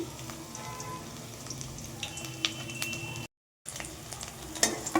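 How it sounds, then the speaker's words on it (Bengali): Drumstick fritters fry in a pan of oil over a low flame, giving a steady soft sizzle with light crackles and brief stirring clicks, interrupted by a short gap of silence. "আমি এক এক করে উল্টে পাল্টে ভেজে নিচ্ছি"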